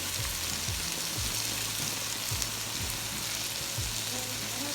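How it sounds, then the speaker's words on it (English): Cauliflower rice frying in a hot pan makes a steady, dense sizzle close by, with a low hum beneath it and no talking. "I'm going to add my cauliflower rice"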